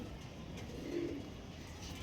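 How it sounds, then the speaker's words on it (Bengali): Lambadi pigeons give a single soft, low coo near the middle, faint against a steady background hush. "এবার দেখাচ্ছি দুটো লাম্বাডি আর দুটো কিন্তু ফিমেল পায়রা"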